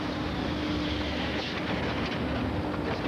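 A subway train rumbles through a Paris tunnel, a steady, loud, close roar of wheels and rails with faint clickety-clack running unbroken throughout.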